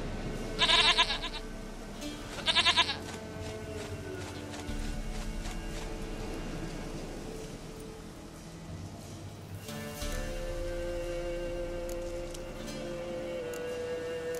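Goat bleats in The Witcher 3 game: two short, loud bleats near the start over a steady game ambience and music bed.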